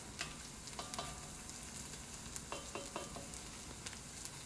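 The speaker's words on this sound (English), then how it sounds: "So we're going to put this garlic right in. We'll give it a quick stir." Garlic frying and being stirred in a pan for fried rice, a faint steady sizzle with a few light scrapes and taps from the utensil, quiet and without voices.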